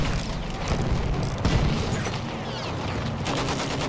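Grenade explosions in the World War I shooter Battlefield 1, heavy close booms layered over a dense roaring battle rumble with scattered crackling gunfire, loud and continuous throughout.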